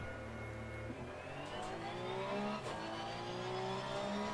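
A race car engine in Assetto Corsa Competizione revving steadily higher as it pulls away, a continuous close whine climbing in pitch without pause, with no voices over it.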